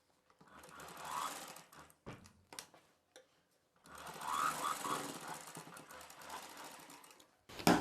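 A sewing machine stitches a folded hem on a blouse in two long, rapid bursts of whirring and ticking, separated by a pause with a few clicks, then a sharp final knock.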